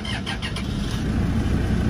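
A 2017 Toyota Hiace Commuter van engine cranks in a few quick pulses, then catches and settles into a steady, close rumbling idle.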